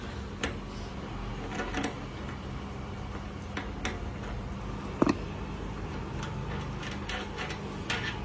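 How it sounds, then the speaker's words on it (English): A 10 mm spanner turns seat bolts with faint, irregular metallic ticks and clicks, one sharper knock near the middle, heard close in a quiet space. "To remove this you need 10 mm spanner."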